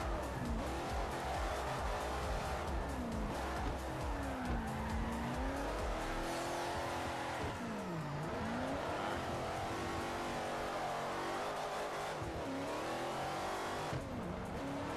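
A Plymouth Hemi Cuda in the racing game Forza Horizon 4 slides through drifts, its engine revving hard and swooping in pitch while tires squeal and skid in long sweeps, loud and up close with no voices.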